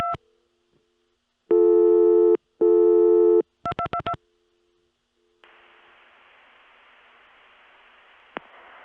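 Telephone busy signal after dialing a CCSA access number on an oil company's private network, 1982: tone bursts, then a quick series of dial tones, and a long stretch of steady line hiss.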